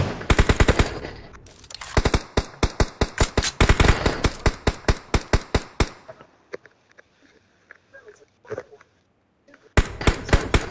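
Rifle fire rings out in the mobile battle royale game PUBG Mobile, loud rapid bursts of close shots that thin to scattered single reports, then a pause and another quick volley at the end.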